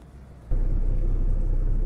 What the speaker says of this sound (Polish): Pojadę tirem.